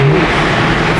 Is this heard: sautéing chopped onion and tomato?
no